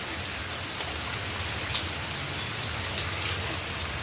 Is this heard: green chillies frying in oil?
no